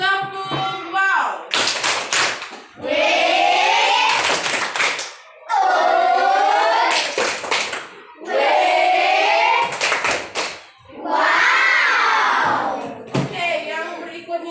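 Children in an Indonesian classroom lesson chant and clap together in the "tepuk wow" routine, a series of loud rhythmic bursts of sharp claps broken by sung, shouted voices, repeating several times close up.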